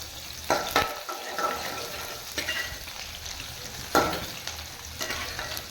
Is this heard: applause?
no